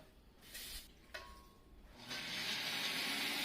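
Water pours steadily into a blender, starting with a few short splashes and then settling into a continuous close hiss of flowing liquid.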